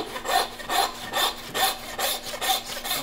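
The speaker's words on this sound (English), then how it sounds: "Now I'll take my handsaw." A handsaw cuts through the ball joint of a beef sirloin, making steady rhythmic rasping strokes, about seven back-and-forth pulls in quick succession, close and clear with no talking.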